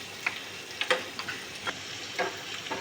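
Green chillies drop into a hot pan and fry, giving a soft sizzle with a few sharp crackling pops spread across a few seconds, fairly quiet and with no voices.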